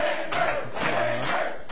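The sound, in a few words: wrestling crowd cheering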